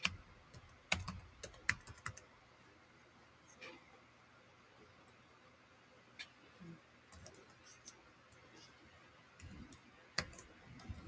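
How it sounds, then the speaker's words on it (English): Typing on a computer keyboard while setting up a Dell 7212 Rugged laptop, with scattered bursts of quick clicks and taps spread across a quiet room, fairly close and moderately soft, with no talking. "I'm just sitting here typing."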